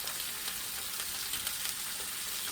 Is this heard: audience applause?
no